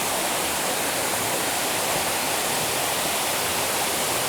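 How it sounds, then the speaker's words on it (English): Steady, dense rushing of a waterfall at the Sandals Regency La Toc resort in St Lucia, close and loud, an unbroken roar with no voices. "So you're listening to the waterfall."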